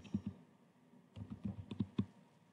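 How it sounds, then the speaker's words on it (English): Keystrokes on a computer keyboard, entering a search into a student encyclopedia database: a few clicks, a pause, then a quicker run of taps, soft and fairly close, with no voices. "I'm going to type in my article"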